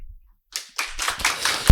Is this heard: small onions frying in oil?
no